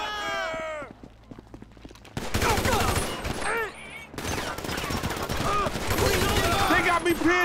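Heavy gunfire in a GTA V gunfight, with rapid bursts and sustained volleys crackling loudly alongside shouted voices and other game sounds.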